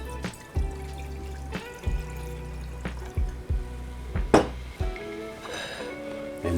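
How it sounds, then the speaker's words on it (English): Wine, a 2003 Chateau Musar, is poured into a glass beside a chicken shawarma meal, with liquid trickling and glugging between sharp clinks and knocks of glass, close by and with no voices. "Let's pour some wine here."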